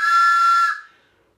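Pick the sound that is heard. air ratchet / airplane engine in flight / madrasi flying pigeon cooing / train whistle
train whistle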